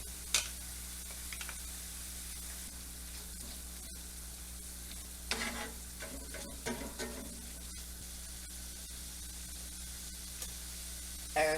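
Ground meat cooks in a pan with tomato paste, giving a quiet, steady sizzle with a few scraping stirs partway through, no voices over it.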